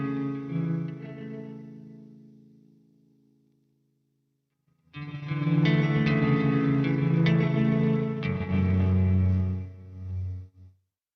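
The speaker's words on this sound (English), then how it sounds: "And then here's just a more extreme example of the reverb." An electric guitar plays through an extreme reverb effect: a chord rings out and fades into a long wash, then after a short silence a fuller strummed passage swells and trails away. No voices.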